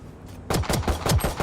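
Rapid gunfire in the tactical shooter game Valorant, a short burst of several sharp shots in quick succession after a brief quiet lead-in.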